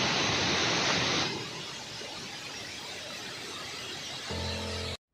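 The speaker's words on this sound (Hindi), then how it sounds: "तो सामने ज़बरदस्त वाटरफॉल है दोस्तों" Waterfall on the Madhyamaheshwar trek, a broad constant roar of falling water heard close and loud at first, then easing to a steadier, softer rush before a brief change and a sudden cut.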